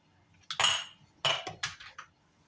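A spoon clinks against a pot while sugar is stirred into chicken tortilla soup, three or four sharp metallic taps close by in a quiet kitchen.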